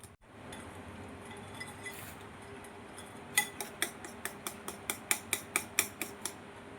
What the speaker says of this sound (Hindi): इसे खूब अच्छी तरह से फेंट लेना है